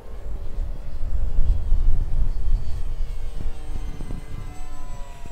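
A Hawk King 928mm RC seaplane flies overhead, its small engine droning steadily and fairly loud, then easing slightly as it passes, with no voices.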